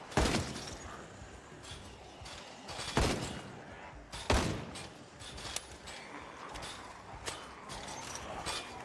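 Gunfire in Project Zomboid: a string of sharp, loud shots with uneven gaps between them, each one standing out over a steady bed of game noise.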